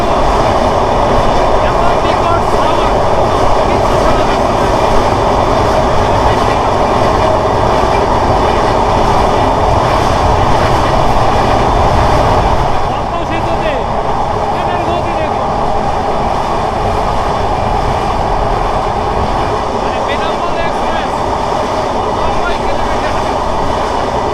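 Benapole Express passenger train in Bangladesh rolling along the rails near Bhanga and the Padma Bridge at night, a loud continuous rumble with steady wheel clatter throughout, easing slightly in level midway.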